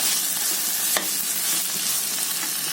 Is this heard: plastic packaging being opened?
no